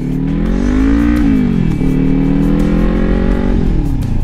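A motorcycle engine during a riding lesson, engine braking while downshifting: a steady, loud close-up drone whose pitch climbs, drops sharply at each gear change, then settles lower as the bike slows.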